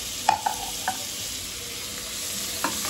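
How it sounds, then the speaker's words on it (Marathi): Onions frying in oil, with a steady broadband hiss of sizzling and a few sharp spatula scrapes or taps against the pan near the start and end. "कांद्यामध्ये पाणी असल्यामुळे थोडा आवाज पण येतो आहे"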